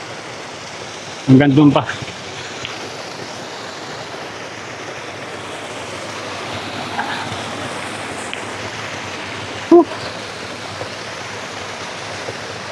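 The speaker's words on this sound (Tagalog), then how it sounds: "Yun yung falls." Waterfall at a hidden lagoon in Barangay Tua, Magallanes, Cavite, heard as a steady, broadband roar of falling water throughout, with a brief spoken phrase and a short knock breaking through.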